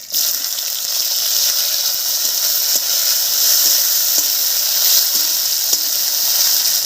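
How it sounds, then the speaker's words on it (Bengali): Chopped tomatoes sizzle in hot oil over a tempering of black mustard seeds, slit green chillies and ginger for a radish dish, giving a steady bright hiss with faint scattered crackles and no talk. "এবার এর মধ্যে দেব কেটে রাখা টমেটো"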